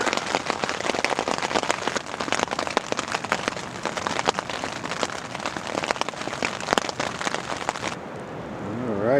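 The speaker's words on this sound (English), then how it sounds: "It's raining pretty hard out right now" Heavy rain pours on a campsite along the wild Olympic National Park coast, a dense, loud, continuous patter of drops with no voices, easing slightly near the end.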